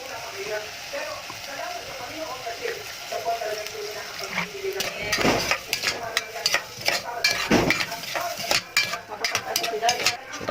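Snails sautéing with pepper in a pan, a steady sizzle with scraping and stirring clatter that grows busier and louder partway through, with a voice talking quietly now and then.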